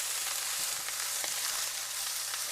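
Fried rice sizzles hard in a pan or wok on high heat, a steady, dense crackle that stays loud and even throughout with a low hum beneath and no voices.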